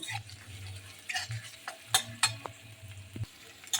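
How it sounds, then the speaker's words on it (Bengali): Chopped ginger, green chili and asafoetida fry in hot oil in a pan for an aloo paratha filling, giving a steady close sizzle with crackling pops and occasional sharp clicks of stirring, and no talk over it. "আদা লঙ্কাটাকে ভালোভাবে একটু ভেজে নেব"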